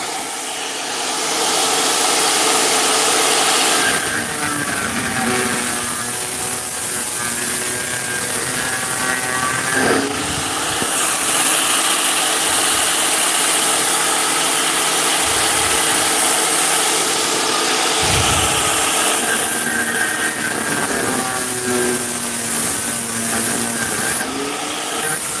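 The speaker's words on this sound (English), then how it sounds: "I don't typically like that style of grinder where you have to click the switch" An electric grinder with a click switch runs loud and continuous at close range, a steady high whine that shifts in pitch under load and eases off briefly a few times.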